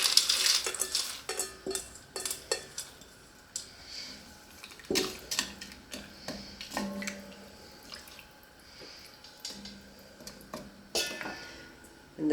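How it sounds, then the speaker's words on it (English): Frozen green beans, peas and corn go into a soup pot of chicken stock, giving a string of light clinks, taps and rattles against metal, some close and fairly sharp. The sounds come in irregular bursts over a quiet kitchen background. "We're going to go ahead and add all our frozen vegetables."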